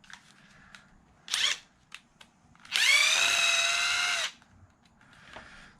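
A power drill pulls screws from the front differential of an Arrma Limitless RC car, making a few short whirring bursts and then one sustained, loud rising whine close by, with clicks between.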